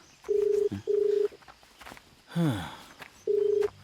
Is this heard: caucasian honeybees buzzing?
no